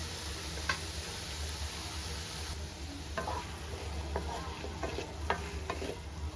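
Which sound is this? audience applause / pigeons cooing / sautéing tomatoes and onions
sautéing tomatoes and onions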